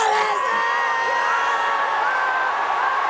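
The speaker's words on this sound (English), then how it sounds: "Not only all the fielders, the entire crowd was appealing" Dense cricket crowd roars and shouts in a sustained, loud wall of appeal alongside fielders at an India versus South Africa match, cheering and yelling continuously without a break.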